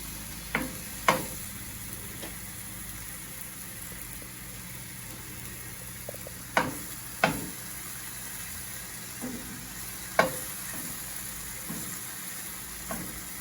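Vegetables cooking in a pan, a steady low sizzle with several sharp clacks and scrapes of a utensil against the pan at irregular moments, no voices.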